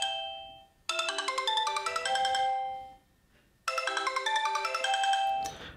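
Sony Xperia M phone ringtone played at full volume, a bright chiming melody in two loud bursts separated by a short pause, alone with no talking.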